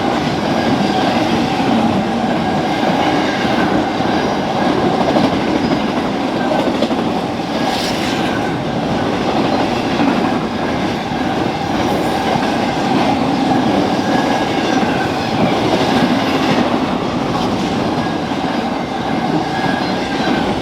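An intermodal freight train carrying UPS trailers rolls past close by, a continuous loud rumble with rhythmic clacking of wheels over rail joints and occasional faint squeals, on the BNSF Marceline Subdivision at La Plata, Missouri.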